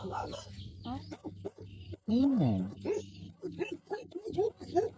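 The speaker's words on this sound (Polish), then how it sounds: "O, mają pieski, ale w klatce zamknięte." Caged dogs at a house in the Philippines yip, whimper and bark in short bursts nearby, mixed with talking voices.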